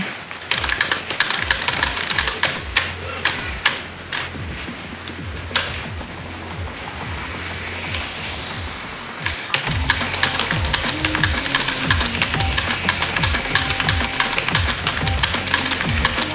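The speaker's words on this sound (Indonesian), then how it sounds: "mari kita tes sekarang untuk bermain game Osu menggunakan keyboard Vantex K511" Fantech K511 gaming keyboard keys clatter in rapid, dense bursts of clicks during a game of osu!, several keys often pressed at once, close and fairly loud with a brief pause near the middle.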